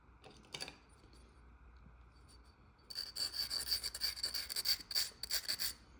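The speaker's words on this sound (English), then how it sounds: "Take your carborundum" A carborundum stone rasps against the edge of a small piece of stained glass, a burst of gritty back-and-forth scraping strokes after a quiet start with a few faint clicks, close and alone.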